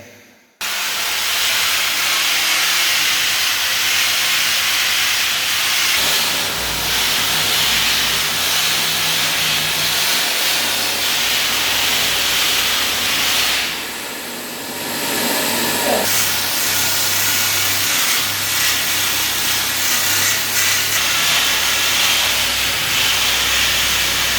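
A kitchen floor is sanded with sandpaper, giving a loud, continuous abrasive hiss and whoosh close by that holds nearly unbroken for the whole stretch, with only a brief dip partway through.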